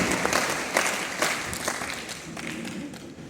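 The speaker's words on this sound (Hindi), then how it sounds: "बस जोरदार तालियों के साथ हमारे आज के कलाकारों का स्वागत अभिनंदन" Audience applause welcoming the performers before a santoor recital at CMP Degree College, Prayagraj: a fairly distant, continuous wash of clapping with a few sharper claps, slowly tapering off.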